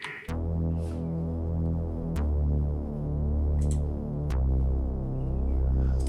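Synth bass from the GMS plugin in FL Studio for an Afro House track, a dense, sustained analog-style line with steady loud notes and a few clicky transients, no talking.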